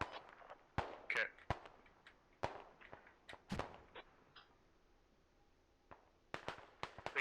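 Mortar rounds land around a town in the tactical shooter Squad, heard as scattered sharp cracks and booms at varying distances, some in quick clusters, with quieter gaps between them.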